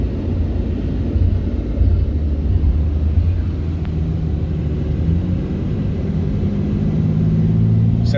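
A Dodge RAM pickup with a 6.7 L Cummins diesel engine idles, a steady low rumble holding even throughout.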